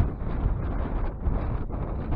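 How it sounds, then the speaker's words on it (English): Breezy morning wind gusts steadily across a microphone at a wild camp on Warnscale Head, a continuous low rumbling buffet with no voices. "It's a bit breezy this morning."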